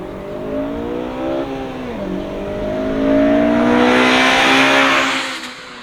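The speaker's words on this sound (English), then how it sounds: "it's so fun to take it into that VTEC crossover" A 2018 Honda Civic engine pulls hard through the gears into the VTEC crossover, rising rev tone that dips at a shift then climbs louder and smoother before easing off.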